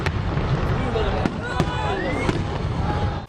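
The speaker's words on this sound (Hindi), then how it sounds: "मेले के इख्तिताम पर आतिशबाजी का शानदार मुजाहिरा किया गया।" Fireworks bursting at the close of a food festival in Gujarat, with sharp cracks and pops scattered over a dense, steady crackle and crowd noise, and voices mixed underneath.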